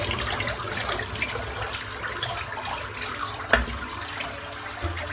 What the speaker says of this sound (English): I'm just going to empty the water out because that's filthy.